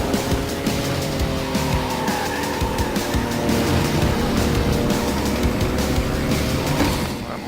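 A racing car in Reckless Racing 3 buzzes with a steady high engine whine, while tires squeal and skid through the turns and nearby vehicles roar throughout.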